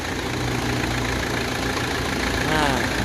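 A car engine, just restarted after a fuel injector repair, idles with a steady mid-low rumble that holds at an even level throughout, with a slight swell near the end.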